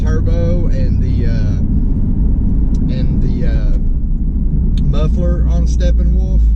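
The nitrous-fed Chinavette, a car with surge issues, idles with a loud, deep, continuous rumble right up close while someone talks over it.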